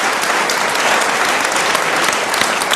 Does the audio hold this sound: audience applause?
yes